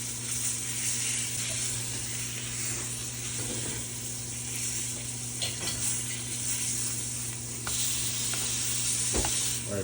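Steak searing in a hot pan after being flipped to char the edges, a soft steady sizzle with occasional small clicks of handling, faint and close, no talking.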